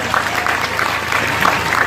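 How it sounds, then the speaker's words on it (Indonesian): Crowd applause at an outdoor National Santri Day gathering in Indonesia, a dense wash of many hands clapping steadily throughout, moderately loud and continuous. "Tepuk tangan untuk santri-santri semuanya."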